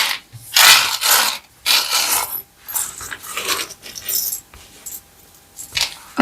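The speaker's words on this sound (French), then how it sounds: "On range les petites breloques." Small metal charms jangle and clink in a quick series of bright rattling bursts as they are handled and put away, close and fairly loud with short gaps between clusters.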